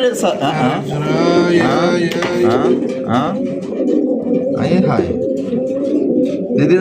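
Several pigeons coo in overlapping, throaty rolls close by, with people talking over them the whole time.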